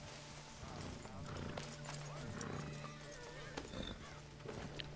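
Horse hooves clip-clop in Red Dead Online, a steady background patter of footfalls mixed with a whinny and game ambience, with talk over parts of it.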